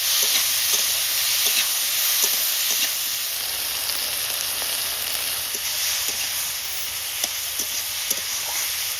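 Chopped tomatoes with salt fry in a pan, giving a loud, steady sizzle and hiss throughout with occasional faint stirring clicks, close up, no talking.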